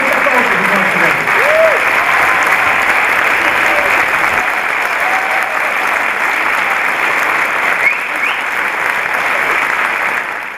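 A hall audience at the Gouden Gurbes 2011 awards gives loud, sustained applause, a thick continuous wash of clapping that stays strong throughout, with faint voices and cheers mixed beneath it.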